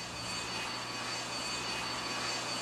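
A steady airplane engine drone from the Airline Commander mobile game, one engine failed, with a constant hum and high whine held evenly throughout and no talking.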